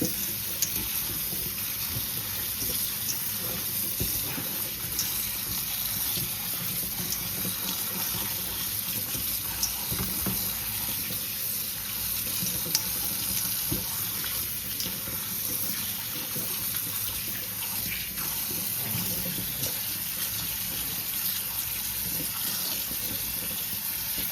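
Tap water runs steadily into a kitchen sink over cooked macaroni being cooled for a Jamaican macaroni salad, a constant close splashing gush that lasts throughout with no talking.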